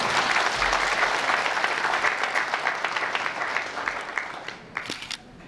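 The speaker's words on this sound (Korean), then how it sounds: "다시 한번 그 고마운 박수 부탁드려요." Audience applauding at a university president's inauguration and farewell ceremony, a full, sustained round of clapping across a large hall that gradually thins and tapers off toward the end.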